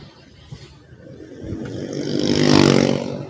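Low-budget motorcycle's rear gear grinding like a truck while touring from Sukabumi to Jampang, a droning rumble that rises steadily to a loud peak and then eases slightly.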